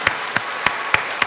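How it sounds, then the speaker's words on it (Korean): A church congregation at a Sunday worship service claps in unison, five sharp, evenly spaced claps in a steady rhythm with no talking over them. "하나님께 영광의 박수 올리겠습니다."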